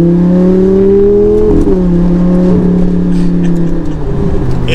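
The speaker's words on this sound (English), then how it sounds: "Let's do a few little accelerations, play with the car once more" A Lamborghini Gallardo with a single-clutch gearbox revs hard and steadily, with a loud, raspy tone that drops briefly at a gear change before pulling again.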